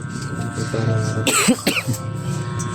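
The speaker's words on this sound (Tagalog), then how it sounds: "inuubo pa rin ako" A single sharp cough up close, standing out over a low steady background hum.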